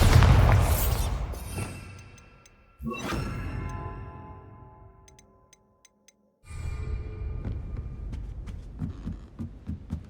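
A Bombarda spell blast in Hogwarts Legacy, a loud close explosion that fades out, then a second boom followed by scattered debris ticks and clatter.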